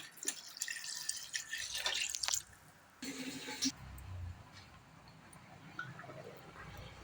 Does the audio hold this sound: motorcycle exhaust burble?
no